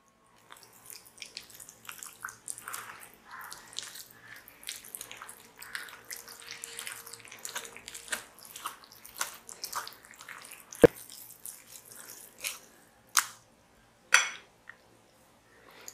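Water poured in small additions into kalathappam batter in a bowl, a soft splashy trickle with faint clinks, then a few sharper knocks near the end; no talking.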